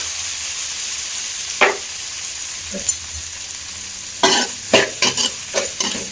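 Tomatoes and onions sauté in a pan with a faint steady sizzle, broken by a few sharp stirring scrapes that cluster toward the end.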